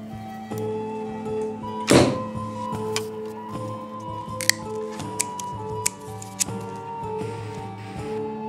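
Adhesive tape is pulled and rubbed onto a bowstring made from bed slats with a sharp tearing rip, then scattered clicks and light taps nearby.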